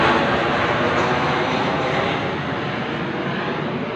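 Low-flying airplane passing over a house roof late at night, a steady, loud broadband engine roar filling the whole clip with little change, slightly easing toward the end.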